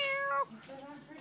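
A house cat meows loudly up close, a drawn-out harmonic cry in the first half followed by softer, lower mewing; a person also repeats meows, imitating the animal.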